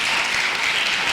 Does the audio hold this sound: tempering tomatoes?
no